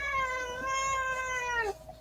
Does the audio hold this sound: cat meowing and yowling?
yes